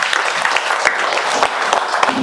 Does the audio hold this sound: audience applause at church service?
yes